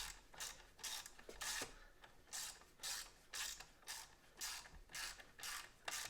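A hand ratchet works loose the long ignition coil bolts on a 2.0 engine in a VW MK4 Jetta, Golf or Beetle, with a steady run of back-and-forth clicking strokes, close and fairly quiet.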